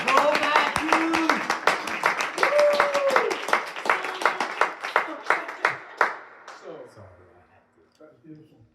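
Audience at a poetry reading clapping as a performer takes the stage, brisk steady applause with shouts and whoops mixed in, gradually thinning and fading out near the end.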